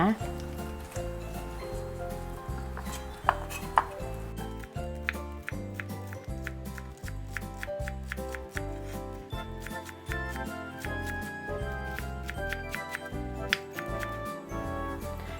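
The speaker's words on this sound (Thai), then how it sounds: "เดี๋ยวเรามาหั่น ต้นหอมกันก่อน" A knife chops spring onions rapidly and steadily on a cutting board, a quick regular rhythm of sharp taps that continues throughout.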